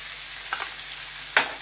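Corn tipped into sautéed vegetables in a hot wok, a continuous loud sizzle broken by two brief sharp surges as the kernels hit the pan, with no speech.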